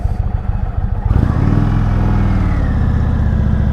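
A 2019 Indian Springfield motorcycle engine, loud and close, goes from a low lumpy idle into a steady, droning rev as the bike pulls away. The stock exhaust gives it a plain, unrefined note.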